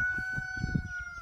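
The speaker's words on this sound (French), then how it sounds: "réveillez-vous comme que le coq vient de vous dire" A rooster crows once in a drawn-out, wavering call that stands alone, clear and fairly close, with faint clucking beneath it.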